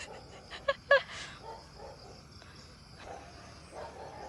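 A few sharp dog barks near the start, then quieter rustling background with faint insect chirps along a rural path in La Union, Philippines.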